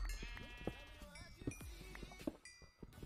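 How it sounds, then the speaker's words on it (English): Sheep bleats in the Minecraft Nether, a few short bleats spread across the moment, mid-distance and fairly clear amid a busy backdrop of game sounds. "Why do I hear a sheep in the nether?"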